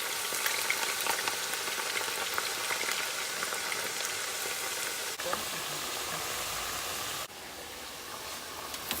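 Potatoes fry in hot oil in a pan, a constant bright sizzle with scattered crackles and pops, close and steady throughout with a couple of slight dips.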